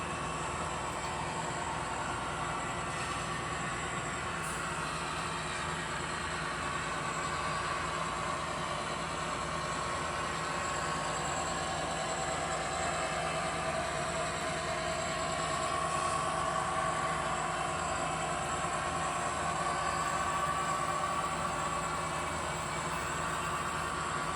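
A long model train of 2 locomotives and 27 cars runs steadily on a home layout, a continuous even rumble and hum with faint clicking, unchanging in loudness throughout.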